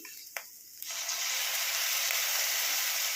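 Fried onion and crushed tomato hit hot oil in a pan for a fish curry, a brief clatter and then a loud, steady sizzle that stays close and continuous.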